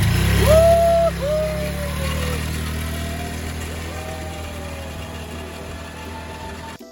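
A four-wheel ATV engine in Gapyeong idles and revs close by, a loud low rumble at the start that eases into a steady mid-pitched drone with rising whining tones, alone without talk.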